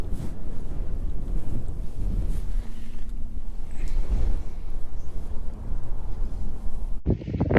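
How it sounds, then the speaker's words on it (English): Strong, gusty wind roars across a frozen lake where the ice is thinning toward open water, a steady heavy rumble pummeling the microphone with no talk. "it is freaking windy"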